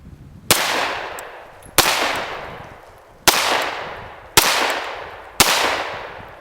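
A pistol being test-fired outdoors, five sharp shots spaced about a second apart, each loud report trailing off in a long echoing decay, with no talking.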